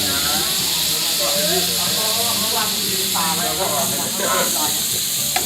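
Pork stir-fries in a hot pan for spicy Thai pad kaprao with holy basil, crackling in a dense, continuous sizzle while someone talks over it.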